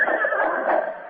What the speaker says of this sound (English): Horses in here. 3 of them.